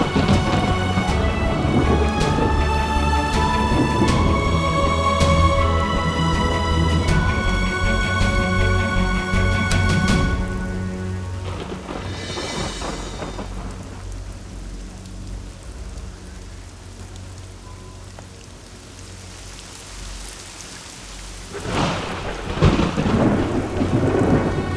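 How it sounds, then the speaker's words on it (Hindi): A thunderstorm pours rain steadily, with music playing over the first part. The rain continues alone afterward until a heavy rumble of thunder rolls in near the end. "लगता है यहाँ आसपास कहीं बेमौसम बारिश हुई।"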